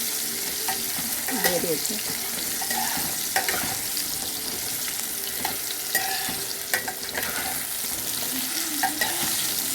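Potatoes fry in a pan with salt and turmeric, a steady soft sizzle with repeated scraping stirs, close by, and a brief spoken phrase over it.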